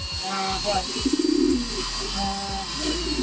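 Pigeons in a breeding loft of long-distance racing birds give soft, repeated cooing and low throaty murmurs, close by, with occasional wing or foot shuffles and a voice speaking over them.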